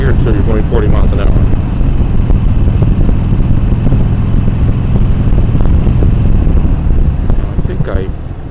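A Harley motorcycle rides along Sunset Boulevard in Los Angeles, its engine rumbling loud and continuous with wind noise while the rider talks over it.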